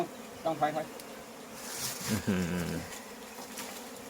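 Bees buzz around a hive during a honey harvest, several loud close passes rising and falling in pitch over a quiet background.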